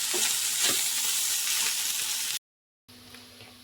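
Carrot rice being stirred in a hot sizzling pan, a steady frying hiss with scraping strokes of the spoon, loud and close, broken by a short silent gap before the sizzle resumes more quietly.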